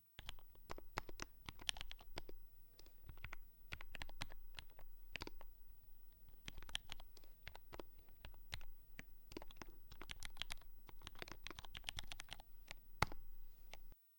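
Someone types on a computer keyboard nearby in quick, irregular clusters of soft clicks and taps, with short pauses between bursts and a quiet room behind.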